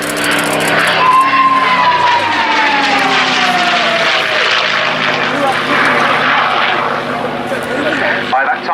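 A P-51 Mustang propeller fighter flies past at an air show at Yeovilton, its loud engine droning steadily with a descending pitch as it passes close by, while a commentator talks over it throughout.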